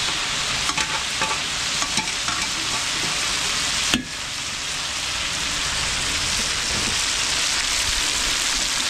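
Beef being sautéed in a pan for catering food: a loud, dense, continuous sizzle like heavy rain, with a few sharp clicks and one clear knock partway through, close by, with no voices.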